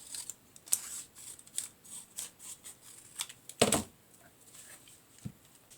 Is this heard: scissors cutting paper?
yes